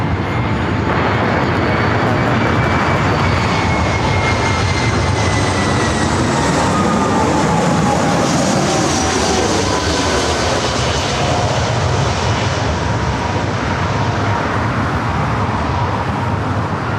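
An Airbus airliner takes off from a parallel runway at LAX, its jet engines building into a loud, sustained roar that sweeps past and slowly shifts in pitch as it climbs away.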